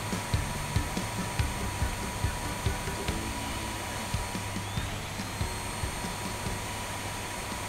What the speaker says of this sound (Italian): Io voglio usare l'aspirapolvere.